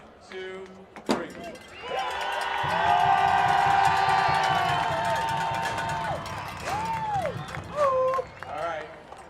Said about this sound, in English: On 3, cheer really loud, okay?